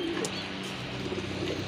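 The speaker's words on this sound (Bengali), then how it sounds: "এটা হচ্ছে আপনার রাজশাহী গিরিবাজ কবুতর" Rajshahi Giribaj pigeons, a crested breed, cooing softly at a farm, low repeated murmuring coos that run continuously under a faint background hum.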